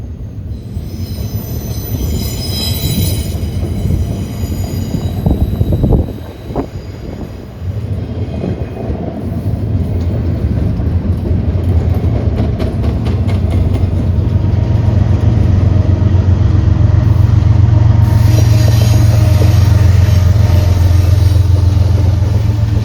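An eastbound freight train rolls past close by and loud, a long continuous rumble of locomotive and railcars with squealing wheels and rising heavy low roar, no talk.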